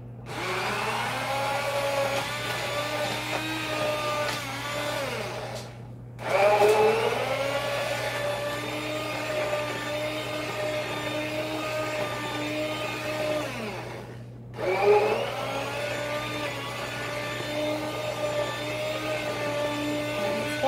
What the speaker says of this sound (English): I'm gonna go ahead and use my little hand blender.